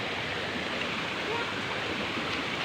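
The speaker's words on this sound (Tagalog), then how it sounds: "Binaha ang Orosok-Osok Falls tabi." Flooded Orosok-Osok Falls pours in a steady, dense roar of rushing water, constant and fairly near, with no breaks or other sounds standing out.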